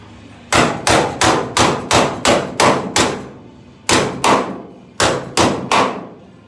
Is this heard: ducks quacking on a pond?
no